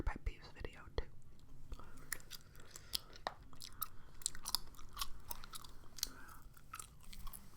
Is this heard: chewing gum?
yes